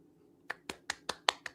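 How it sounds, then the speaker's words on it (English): Six sharp hand claps ring out in a quick, fairly even rhythm, close and moderately loud, with no talking around them. "Hand clap."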